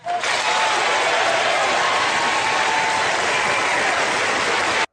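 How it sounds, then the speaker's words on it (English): A crowd of audience members applauds in a news broadcast excerpt, a loud, continuous wash of clapping that starts abruptly and cuts off sharply at the end. "it sounds like the audience applauding cuts in a little too quick"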